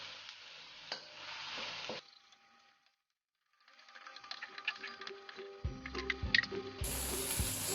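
Chili paste sizzles and spatters in hot oil while being stirred in a pan, crackling bursts with a short near-silent pause before the frying resumes louder.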